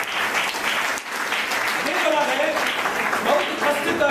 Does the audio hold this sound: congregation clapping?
yes